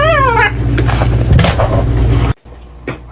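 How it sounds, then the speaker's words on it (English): A little kitten meows loudly and close by, several wavering cries over about two seconds, ending abruptly followed by a short softer mew. "Look at this little kitten."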